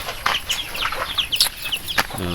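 Derby fighting roosters on a farm make a short burst of clucks and squawks over about two seconds, with possible wing flapping, close and moderately loud.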